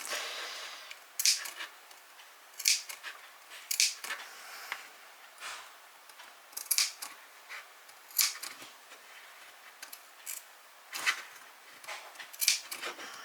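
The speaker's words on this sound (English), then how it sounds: "So I'm going to carry on and just snip all the way around" Scissors snip around a seam of a fabric dress, crisp close cuts coming in small clusters with short pauses between them, alone and fairly quiet.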